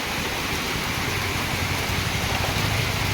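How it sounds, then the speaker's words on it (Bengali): Rain falls on a street where water is pooling, a steady close hiss of drops that fills the whole stretch with no voices. "দেখতে পাচ্ছ কি বৃষ্টি আরম্ভ হয়েছে দেখো রাস্তাতে জল জমা হয়ে যাচ্ছে"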